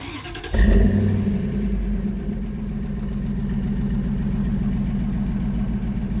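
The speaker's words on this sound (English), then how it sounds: "I got a remote start here. I'm gonna fire it up" Dodge Ram 1500 Big Horn pickup with side-exit exhaust fires up by remote start, a brief loud catch then settling into a steady, deep rumbling idle, close by and alone.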